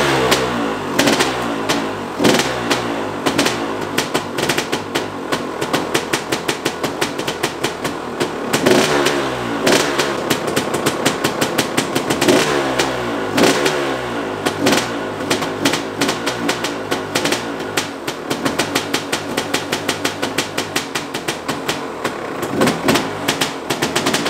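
A Husaberg motorcycle engine runs rough and rich after starting, a loud rapid popping idle with repeated throttle blips and revs rising and falling throughout, close by and with no talk.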